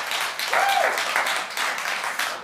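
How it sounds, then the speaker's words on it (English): Church congregation clapping during a sermon, a short burst of applause with a brief voice or tone rising through the middle. "A clap."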